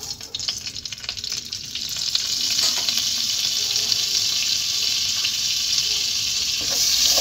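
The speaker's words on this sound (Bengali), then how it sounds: "আমি এটা বাটারটাকে সাদা তেলের সঙ্গে একটু গলিয়ে নেব" Butter melting in white oil in a pan, producing a continuous close sizzle that grows denser and louder after the first seconds, with no one talking.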